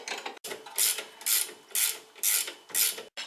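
A ratchet wrench cranks a spring compressor on a VW Passat rear shock absorber, giving about five close, crisp bursts of rapid ratcheting clicks separated by short pauses.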